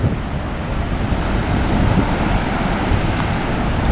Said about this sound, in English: The wind is getting a little bit stronger now.